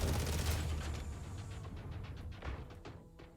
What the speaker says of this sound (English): Gatling gun will be shooting